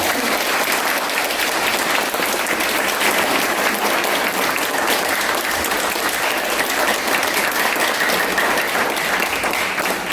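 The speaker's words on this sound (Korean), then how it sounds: "대기자님께 박수 한번 부탁드립니다" Steady, dense applause from a lecture audience fills the room without pause, loud and close, celebrating a journalist's first talk at a Park Chung-hee academy session.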